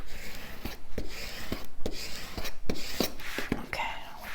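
A large piece of tape is burnished down by hand onto a wedding album, giving soft rubbing and scraping strokes with irregular rhythm, close and fairly quiet.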